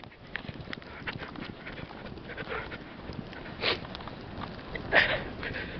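A dog sniffs and snorts outdoors in deep snow during a Chicago blizzard. Quick, irregular breaths come close to the microphone, with a few louder huffs, over soft crunching and wind.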